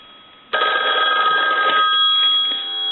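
A Western Electric 500 rotary phone's bell rattles loudly for roughly two seconds before stopping abruptly, with a low electrical hum lingering after.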